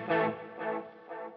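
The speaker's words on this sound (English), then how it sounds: "I'm only getting my delayed repeats with chorus on." Guitar delay repeats with chorus from a Line 6 Helix: three fading echoes of a chord, each about half a second apart, shimmering and warbling, quiet and alone with no voice.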